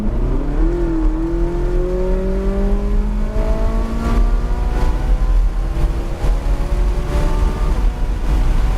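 A Ferrari accelerating hard down the straightaway at Palm Beach International Raceway, heard from inside, with a loud engine note rising steadily in pitch through the gears over a constant roar.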